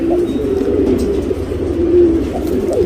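Tournament racing pigeons in a Bangalore loft coo steadily and fairly close, a continuous low murmuring of overlapping calls filling the whole stretch with no talk.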